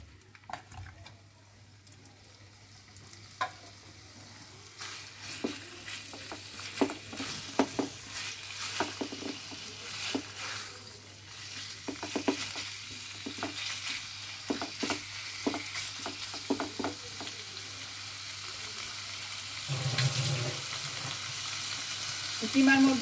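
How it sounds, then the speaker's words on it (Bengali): Minced meat hits hot oil with onions in a pan and sizzles steadily, with repeated stirring scrapes and clatters throughout; the frying builds louder toward the end, with no talking. "তেলটা ভালো হিট হয়ে গেছিলো খুব, তাই পেঁয়াজটা যদি পুড়ে যায় সেই জন্য আমি বন্ধ করে রেখে দিয়েছি। এবার আমি দিয়ে দিচ্ছি কিমাটা।"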